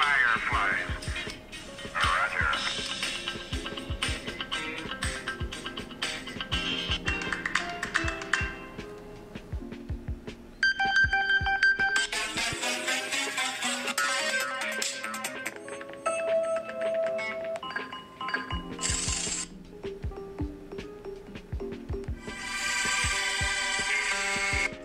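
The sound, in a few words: ringtone of a space-themed alarm app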